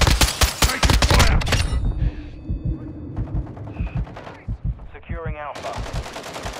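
Call of Duty: Modern Warfare II match on Crown Raceway, with loud, close bursts of automatic gunfire up front, then sparser single shots and clicks mixed with game sounds and brief voice callouts.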